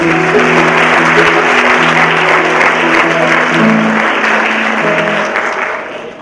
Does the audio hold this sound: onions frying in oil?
no